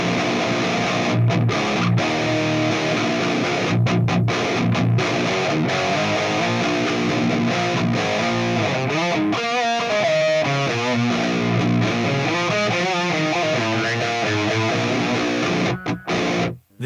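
Heavy distorted electric guitar riffing through two 4x12 PVH 6160 cabinet impulse responses, loud, thick palm-muted chugs with short stops and sustained chords, continuous for about seventeen seconds with no talk.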